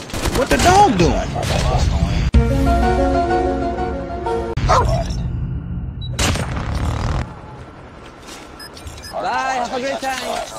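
A dog barks in Call of Duty Mobile, with sharp repeated barks among gunfire and game effects, while a player talks over the action.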